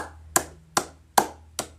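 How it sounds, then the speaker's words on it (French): Four sharp hand claps, evenly spaced about half a second apart, ring out close and fairly quiet over a low steady hum, with no voices. "j'allais venir applaudir comme ça"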